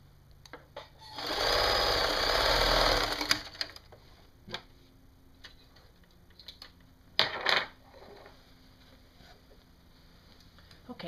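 A domestic sewing machine stitches a skirt waistband seam in one steady burst of about two seconds, followed by scattered clicks and light handling of fabric.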